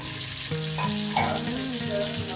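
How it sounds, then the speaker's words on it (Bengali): Fish pieces fry in a pan, turned over until reddish, for a Bengali fish-and-potato dish; a steady close sizzle runs throughout with a few louder crackles and no talk. "এবার উল্টে পাল্টে মাছগুলো লালচে করে ভেজে নেবে"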